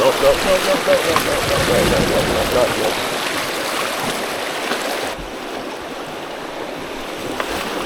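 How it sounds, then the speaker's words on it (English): Swift river water on the Devils River rushes loudly around a paddling boat in the morning, a broad steady wash that eases slightly partway through, with faint voices at the start. "First bit of swift water in the morning."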